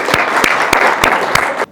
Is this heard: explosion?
no